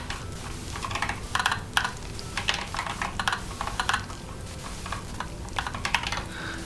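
Rapid, uneven clatter of computer keyboard keys being typed in short bursts, close and fairly loud, with brief pauses between flurries and no talking.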